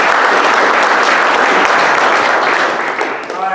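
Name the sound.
audience applause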